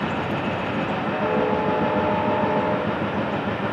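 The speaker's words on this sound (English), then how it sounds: "As you heard Marcus Harris responding to this train" A freight train rolls past on a winter morning, a steady loud rumble of wheels and cars on the rails with a faint metallic squeal riding over it, no voices.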